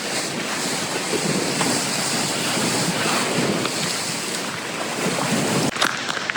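Choppy lake waves slosh and lap against the shore of Ennerdale Water in cold, windy weather, a steady broadband wash with wind buffeting the microphone throughout and a brief louder gust near the end.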